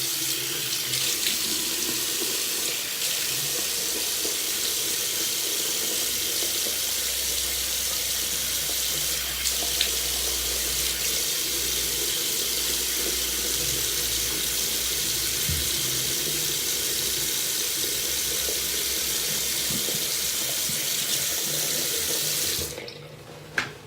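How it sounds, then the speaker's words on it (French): A bathroom tap runs steadily for lukewarm water while a face is rinsed, a continuous close splash that holds nearly unbroken for over twenty seconds before cutting off sharply near the end. "Bon, ils disent après qu'il faut rincer à l'eau tiède. Donc je vais rincer à l'eau mon visage."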